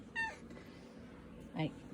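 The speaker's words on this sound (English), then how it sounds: "Can you hear my cat yamming back there?" A cat meows twice, a short cry near the start and another a second later, over a steady low background hum.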